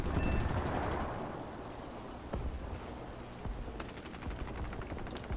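Gunfire from an enemy plane in War Thunder aimed at the player's G.55S fighter: a dense burst of rapid shots at first, then scattered sharper cracks and short bursts over a constant engine roar, loud and close, with no talk.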